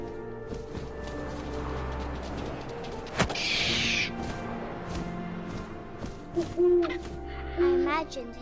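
Owl hooting in the video game What Remains of Edith Finch, a few soft low hoots over a quiet ambient bed with wind and faint rustling and a sharp knock midway, no voices.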